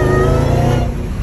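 A Dodge Charger Hellcat engine gives a loud, deep, close rumbling rev that holds steady and then eases slightly toward the end.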